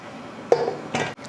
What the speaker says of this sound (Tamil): இப்போ குக்கர் மூடி போட்டுடலாம்